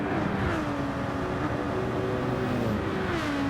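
Race car engine in Gran Turismo 7 during an online race, tucked into a slipstream: a steady, close, high-revving drone with pitch rising and falling as the car shifts through gears.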